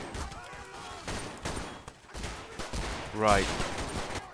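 Rapid gunfire rattles in bursts during a cops versus robbers shootout in Garry's Mod, with bullets whizzing past and a loud sweeping effect near the end, while someone speaks briefly over the shooting.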